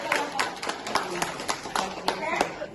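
An audience at a teachers' workshop in Soppeng, Indonesia, clapping together in a quick, steady rhythmic pattern of about ten sharp claps, moderately near and alone.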